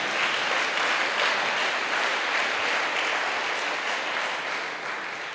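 A church congregation claps and cheers in praise of the Lord. The applause is dense, loud and sustained, fills the whole stretch with no voice above it, and fades slightly at the end.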